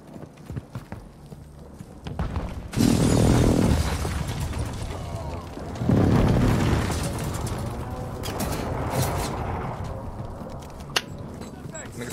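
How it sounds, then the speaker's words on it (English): Precision airstrike explosions in a shooter video game, two heavy booming impacts a few seconds apart with rumbling tails, loud and close, with voices talking over the blasts. "Enemy precision airstrike."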